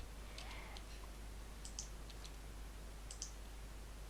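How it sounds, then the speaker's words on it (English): Computer mouse double clicking during Minecraft play, small sharp click pairs repeating a few times, faint and close over a steady low hum, no talking. "My mouse is double clicking yet again."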